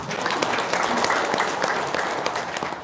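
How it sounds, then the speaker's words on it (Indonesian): Applause from a gathered audience at an Indonesian talk or seminar, a steady dense patter of many hands clapping at moderate loudness for about three seconds, with faint voices mixed in. "Tepuk tangan dulu dong"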